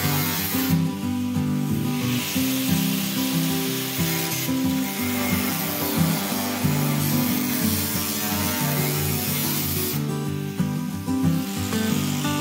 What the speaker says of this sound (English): I'll re-weld this one and weld it here, and I'll weld it here